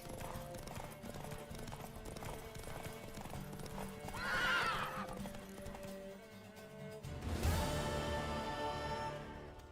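Rhythmic clip-clop of a galloping horse's hooves under game music in The Witcher 3: Wild Hunt, with a horse neighing loudly partway through and a burst of noise near the end.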